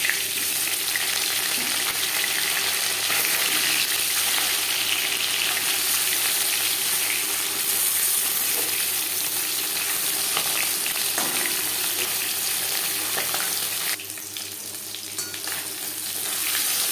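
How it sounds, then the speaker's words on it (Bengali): Pieces of rohu fish, including the head, fry in hot oil with a steady, dense sizzle and crackle that runs close and loud throughout, while occasional stirring and turning adds small clatters; no one speaks. "মাছ একটা সাইড ভাজা হয়ে গেলে অপর সাইডটা উল্টে দেবে।"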